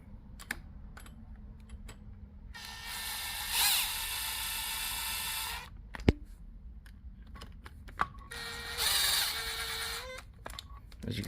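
An air gun tightens bolts on a Honda CBR300 clutch cover in two loud, close bursts of high whirring buzz a few seconds apart, with small metallic clicks and handling noises between them.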